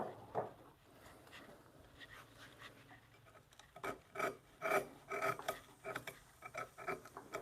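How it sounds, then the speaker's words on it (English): A chisel pares across the grain of a wooden tenon on a bunk bed rail, making close, rasping scrapes that are faint at first, then come as repeated short strokes growing louder and more regular, with no speech. "Now I'm coming across the grain with the chisel here"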